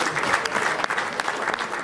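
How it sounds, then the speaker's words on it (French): Audience applauding at the inauguration ceremony for the new headquarters of the African Volleyball Confederation, a dense, steady wash of many hands clapping at moderate loudness, heard alone without talk. "remercier notre président, Dr Harry Grassa, que je vous demande d'applaudir très fort."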